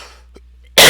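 After a near-silent moment with a faint small noise, a single loud, close cough bursts out abruptly and fills the rest of the short stretch.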